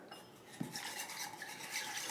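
Spoon stirring syrup into an apple cider vinegar salad dressing in a small bowl, a soft continuous swirling scrape with a light clink near the start, quiet and close with no talk.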